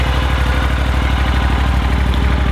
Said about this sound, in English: Turn the key on, and then it's got a very slow idle or slow start.